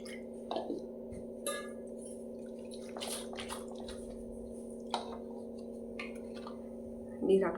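Ragi milk strained through a filter, with soft drips and wet squishing over a steady low hum and a few sharper knocks, fairly quiet throughout.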